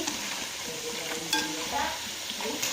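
Plantain pieces fry in hot oil as a spatula stirs them, giving a steady close sizzle with a few light scraping and clinking touches, and no talking.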